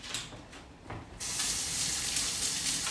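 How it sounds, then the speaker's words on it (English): Kitchen tap water running while hands are rinsed: a few faint splashes, then the faucet opens into a steady, close hiss of flowing water that continues to the end. "Let me rinse off my hands real quickly."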